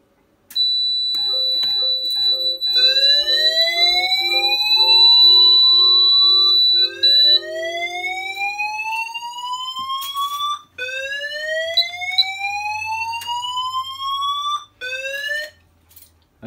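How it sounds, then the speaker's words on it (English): A fire alarm evacuation sounder set off by a manual call point, loud and continuous, with repeated rising sweeping tones and pulsing beeps layered together, ringing alone with brief breaks. "if I demonstrate a call point, you'll see that it will go straight into evac, bypassing that whole alert phase"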